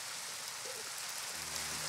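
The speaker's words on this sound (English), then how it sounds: "Looks like it is raining." Rain falls in the video game Roblox as a faint, even hiss of drops that holds steady throughout, with a soft tonal murmur near the end and no talking.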